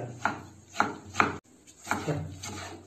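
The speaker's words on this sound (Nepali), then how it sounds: "टमाटर काटियो टक्क पारेर" A knife chopping tomato finely on a board strikes in sharp, separate taps, about six of them at an uneven pace, close and clear with no talking.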